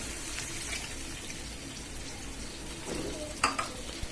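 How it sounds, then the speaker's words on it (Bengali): Ground spices soaked in water added to fried onions in a pan, a faint steady sizzle with a brief watery burst and a few soft utensil clinks near the end. "এবার আমি পানিতে গুঁড়া মশলা ভিজিয়ে রাখা মশলাটা দিয়ে দিচ্ছি"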